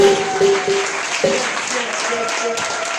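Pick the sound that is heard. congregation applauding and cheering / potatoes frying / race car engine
congregation applauding and cheering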